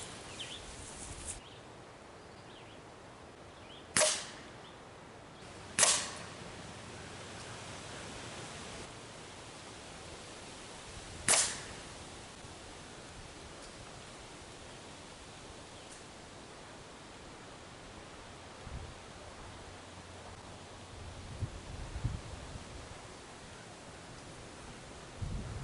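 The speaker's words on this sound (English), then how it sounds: "it is really windy, so I apologize for all this crazy noise" Strong wind blows outdoors at an air gun shooting range, a steady broadband rush with a few sharp gusts or knocks, heard alone with no talking.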